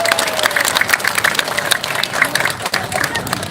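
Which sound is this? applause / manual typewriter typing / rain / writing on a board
applause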